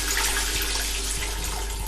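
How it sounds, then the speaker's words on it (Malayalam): Pork stock poured into a pan while making Kochi-style pork vindaloo, a steady close watery splashing and trickling that runs continuously for about two seconds with no talk. "നമുക്ക് ആദ്യം തന്നെ പോർക്കിൻ്റെ വെള്ളം ഒഴിച്ചു കൊടുക്കാം."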